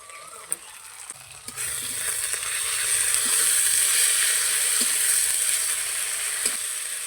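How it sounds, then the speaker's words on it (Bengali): Ginger-garlic paste frying with onions in hot oil for a jackfruit and prawn curry, giving a steady, bright sizzle that swells after a second or so and holds loud, with a few faint stirring clicks. "আদা রসুনটা দিয়ে ভালো করে ভেজে নিচ্ছি"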